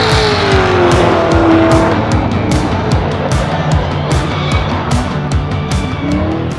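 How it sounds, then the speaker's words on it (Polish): A race car drifts at high speed during a Guinness record attempt, with a loud, continuous engine roar, tyres squealing, and a regular series of sharp, rapid gear-change bursts throughout. "Ależ jedzie, ależ przepina te biegi."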